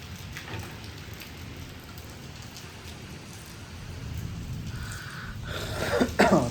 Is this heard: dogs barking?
no